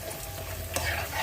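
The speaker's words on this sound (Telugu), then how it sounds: "అంటే కొంచెం పోపు పెడుతున్నాను నేను" Tempering spices crackle and sizzle softly in hot oil in a small pan, a short continuous fry with a brief louder spit partway through.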